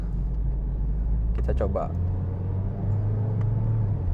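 High-mileage Mazda 2 with Tiptronic automatic at around 183,000 km, engine rumbling steadily from inside the cabin with a brief rev change at a smooth gear shift, while someone speaks briefly.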